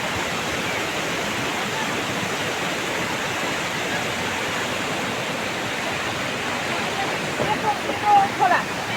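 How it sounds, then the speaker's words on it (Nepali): Rushing water near Shey Phoksundo lake in Dolpa roars as a dense, loud, unbroken wash of noise, with a few brief louder swells near the end. "आउनुहोस् एकछिन पानीको आवाजसँग रमाउँ।"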